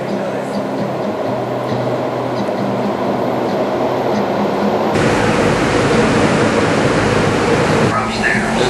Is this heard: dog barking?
no